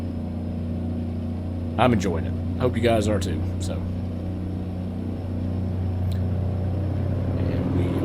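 Truck engine with a sound mod in American Truck Simulator, a steady low idling drone with a faint high whine, running under someone talking briefly.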